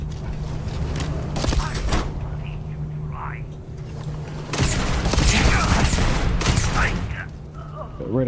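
Heavy, slow-firing weapon in Starfield's Shattered Space expansion lets off a few loud, punchy shots spaced apart, with sci-fi game ambience between them and someone talking.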